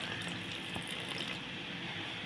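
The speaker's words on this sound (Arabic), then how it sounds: "هنحط بقى شوية من المية" Water poured from a cup into a bowl of homemade pancake batter, a soft continuous trickling splash heard close up and fairly quiet, with no talking.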